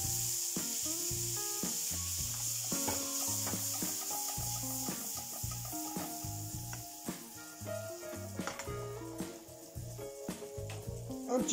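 Ribwort plantain leaves sizzle and are stirred in browned butter in a pan, a continuous close frying hiss with scraping strokes, heard beneath a melodic music track.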